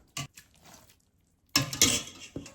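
Egg noodles being mixed into sour cream and cream cheese in a bowl, giving wet squelching stirs and a few sharp utensil knocks against the bowl, in short bursts separated by a quiet pause.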